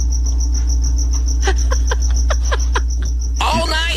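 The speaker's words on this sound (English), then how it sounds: "I got like a cricket in my house now." A cricket chirping inside a house, steady high-pitched pulsing close by, with a few short bursts of laughter and a voice joining near the end.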